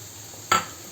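Crushed garlic cloves and onion fry in a pan for fried rice, a low steady sizzle broken by a single sharp stirring scrape near the middle.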